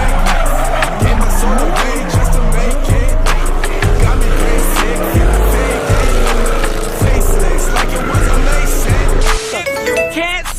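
A car slides with squealing tires while its engine roars loudly and continuously up close, with bursts of revving throughout.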